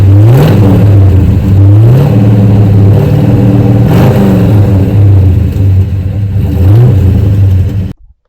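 1967 Buick GS400 with a new 400 cubic inch V8 and manual transmission, its engine revving loudly and close in repeated rising bursts between shifts, then cutting off abruptly.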